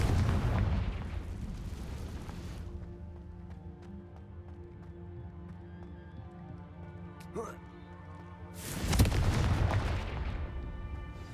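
Confringo blasting-spell explosions in Hogwarts Legacy, a loud booming burst at the start that decays into a long rumbling tail, then a second heavy blast near the end, with a faint whoosh between.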